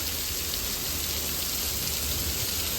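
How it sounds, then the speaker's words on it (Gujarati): Heavy unseasonal rain pours down steadily, a dense, loud, continuous hiss with no break and no voices, as during an out-of-season downpour that is damaging farms. "એટલો વરસાદ અત્યારે અહીંયા ઘણા પડી રહ્યો છે"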